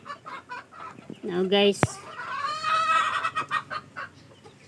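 Chickens cluck nearby in short bursts with a few louder squawks, while someone speaks briefly over them.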